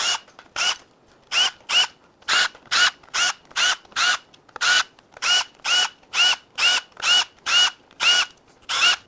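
Power tool, likely an impact driver or drill, zips bolts out one after another on a 2014-2019 Jeep 3.0 EcoDiesel engine: about twenty sharp, evenly spaced bursts, loud and close, with no talk.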